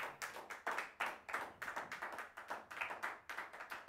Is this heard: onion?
no